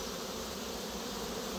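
Honeybees swarm busily at the entrance of a Miniplus hive, producing a dense, steady, continuous buzz at moderate volume with no voices.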